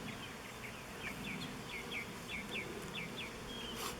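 Agitated honey bees buzz in a steady, droning swarm close by on a hive frame, with faint chirping insects in the background.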